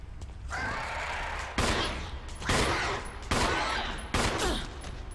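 Gunfire in the video game Resident Evil Remake: four loud, heavy shots spaced about a second apart, each with a booming tail, over a low game ambience.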